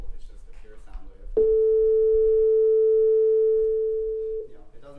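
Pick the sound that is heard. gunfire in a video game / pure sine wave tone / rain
pure sine wave tone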